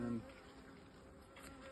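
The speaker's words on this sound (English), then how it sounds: "Seems to be plenty of bees in here." Honeybees buzzing in an opened hive while a super is added, a steady close hum that holds for the whole stretch without talk.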